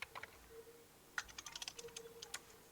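Typing code on a computer keyboard for a Python program, a quick run of close keystrokes, quiet, with a faint steady hum underneath.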